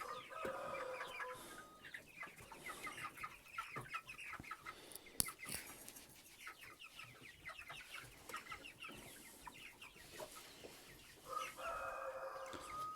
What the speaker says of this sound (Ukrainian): Так, годуємо бройлерів.